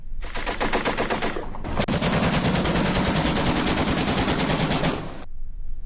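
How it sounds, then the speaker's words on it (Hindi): Aerial gunfire in Lahore: loud, sustained automatic bursts of rapid shots from close range, one long volley running into a second continuous burst lasting several seconds, with no voices. "लाहौर के इलाके नवाकोट में खुलेआम हवाई फायरिंग करने वाले मुलजिम सुफियान"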